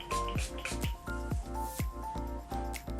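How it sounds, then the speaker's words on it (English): A Mario Badescu facial spray with aloe, herbs and rose water is misted onto a face in about seven quick, evenly spaced spritzes, close and soft, with no talking. "I'm going to take my Mario Badescu facial spray with aloe,"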